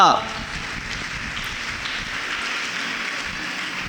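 A church congregation claps loudly and steadily, a dense continuous wash of applause that fills the whole clip at close range.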